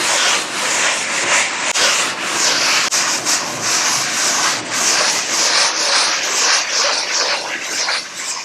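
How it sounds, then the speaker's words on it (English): A sanding block rubs in circles over textured drywall, a steady, close, gritty scraping with rhythmic swishes that continues without a break for several seconds. "Whenever you're sanding texture, I find you get the best results sanding in a circle"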